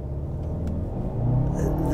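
A Mercedes-Benz A220 4MATIC with a dual-clutch transmission pulls away from a standstill, its engine a steady low rumble that swells slightly as it accelerates, heard close from inside the car.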